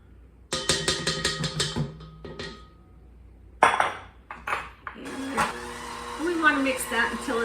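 Melted chocolate being mixed into a butter mixture for no-bake rum ball truffles, heard as a rapid series of clinks and scrapes followed by a steady mixer whir with more utensil clatter.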